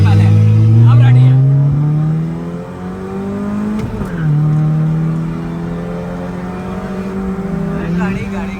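Car engine in second gear revving and accelerating for a race-style run, with a loud, steady harmonic drone that rises, dips briefly around the middle, then climbs again; a voice speaks near the start.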